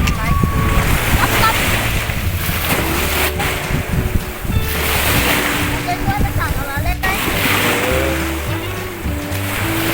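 Sea waves wash in along a beach in Rayong, Thailand, rolling surges rising and falling under steady wind buffeting the microphone, with voices talking over the water.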